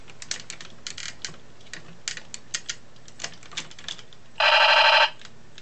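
A 2001 RID Ultra Magnus toy sounds off: scattered clicky button taps, then a short, loud electronic machine-gun burst near the end, heard alone.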